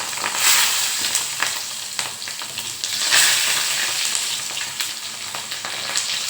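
Asafoetida and mustard-cumin tempered oil crackle as stuffed green chillies (bharela marcha) go into the pan, with a loud, close sizzle that swells in bursts and is joined by occasional stirring scrapes.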